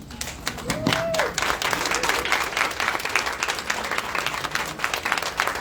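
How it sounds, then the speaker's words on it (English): An audience at an International Women's Day panel applauds the women on stage, with sharp individual claps standing out from a continuous bed of crowd clapping that stays fairly loud throughout and carries faint voices. "give a round of applause to these phenomenal women"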